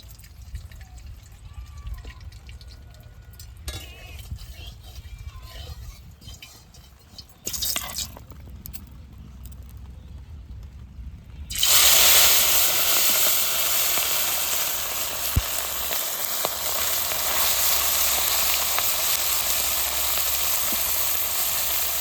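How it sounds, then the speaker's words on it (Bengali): Fish frying in mustard oil in a hot wok: quiet clinks and drips at first, then a loud steady sizzle bursts in and continues close and strong to the end. "এবার মাছগুলো ভেজে নিই কড়াই গরম হয়ে গেছে এবার সর্ষের তেল দিয়ে দেবো তারপর মাছ ভেজে নেবো"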